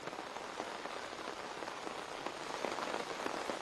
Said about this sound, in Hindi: क्योंकि बारिशें लगातार हो रही है।